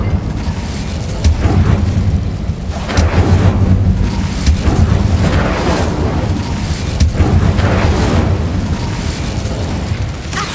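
Fiery spell blast from the Incendio spell in the video game Hogwarts Legacy, a loud, sustained roaring burst with repeated booming surges and crackling flame over about ten seconds, no talk.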